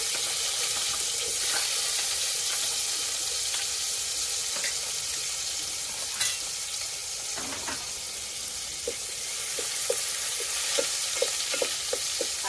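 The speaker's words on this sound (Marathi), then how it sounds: "मी आता फोडणी कांदो टाकतो." Chopped onions sizzle and fry in hot oil for a tempering on a clay wood-fired stove, a steady crackling hiss with occasional stirring scrapes and small pops, close and continuous with no talking.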